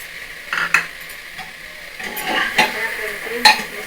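Washed moong dal goes into a pot for khichdi and is stirred, giving close clattering scrapes and clinks of a spoon against the pot over a soft background hiss, in irregular bursts.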